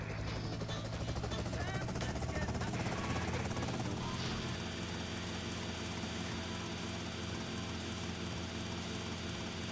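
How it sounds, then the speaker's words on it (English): A helicopter in Grand Theft Auto Vice City gives off a loud, steady rotor and engine drone that swells early and then holds continuous. "Gonna board this chopper."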